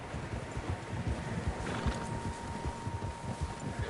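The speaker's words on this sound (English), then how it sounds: "Horses, quite a few of them." Several horses in the video game Red Dead Redemption move along at a walk, their hooves giving a steady, overlapping clip-clop at moderate distance over a low outdoor ambience.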